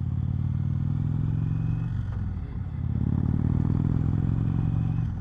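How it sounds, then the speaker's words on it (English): A 2019 Indian Chieftain Dark Horse motorcycle rolls over gravel and dirt, its steady engine drone and wind roar briefly dipping as the tires crunch through loose stones, then swelling again. "Ooh, that's some gravel for you folks. Rode right over some dirt."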